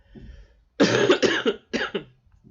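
A man coughs close to the microphone: a harsh, loud double cough followed by a shorter second burst, with a faint murmur just before.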